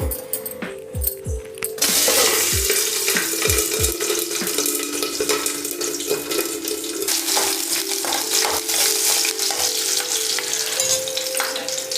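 Slit green chillies fry in hot oil: a few light taps open the clip, then a loud, crackling sizzle bursts in and keeps going steadily to the end, with a low steady hum underneath.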